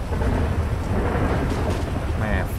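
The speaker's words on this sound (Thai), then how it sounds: "แม่ฝนนี้ก็ตกดีจังผมนี่เดินแล้วเสียวฟ้าผ่าเปี้ยงลงมาเหลือเกินนะ" A thunderstorm in the video game GTA5: heavy rain hisses steadily while low thunder rumbles underneath, loud and close, with a faint brief tone near the end and no talking.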